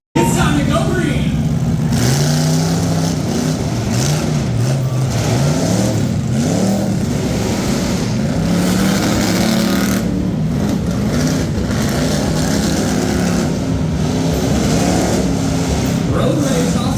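Monster trucks rev and race at a show, their loud engines roaring continuously and rising and falling in pitch as they accelerate, with an announcer talking over the noise throughout.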